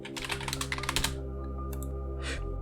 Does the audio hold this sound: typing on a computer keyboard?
yes